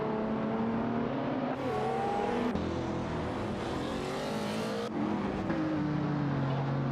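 Race car engines in an AI racing video game, including a Lamborghini Murcielago SV and a Porsche 911 997 Turbo, with continuous layered revving, gear-shift pitch drops and whirring as cars pass, no talk.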